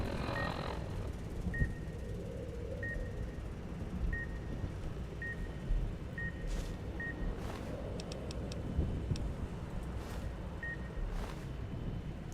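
A proximity mine in Fallout: New Vegas Dead Money beeps in short, evenly spaced tones that gradually speed up. The beeps sound moderately loud over a constant low game ambience, with a few brief sharper electronic blips near the end.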